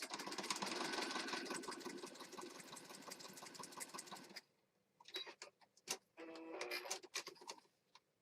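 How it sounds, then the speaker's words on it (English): A sewing machine with an auto needle threader stitches around the edges of junk journal pages. A continuous fast, close mechanical whir runs for about four seconds, then gives way to short bursts of stitching separated by pauses. "we're almost done sewing around these edges"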